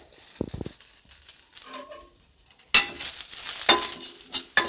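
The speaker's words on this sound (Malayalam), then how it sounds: "ഇനി നമ്മൾ ഈ കറിവേപ്പില കൂടി അതിനകത്ത് ചേർക്കുക." Curry leaves hit hot oil over a low flame for moru curry, setting off a sudden loud crackling sizzle with sharp pops after a few quieter clinks and a moment of near silence.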